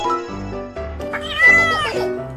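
A cat meows repeatedly in a drawn-out, wavering voice, close and clear, with a couple of rising and falling calls across about two seconds.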